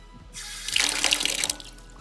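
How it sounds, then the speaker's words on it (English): Tap water is poured into a compost bin in one brief, fairly loud rushing splash lasting about a second before it cuts off. "we will want to add water to it"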